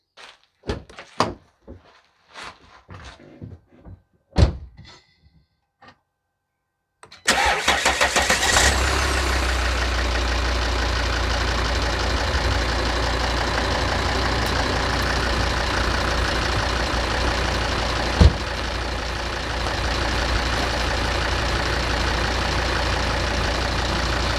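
A Volvo XC70 with a suspected weak battery: a few door thunks and clicks, a short pause, then the engine cranks and catches into a steady, even idle that continues close and loud to the end.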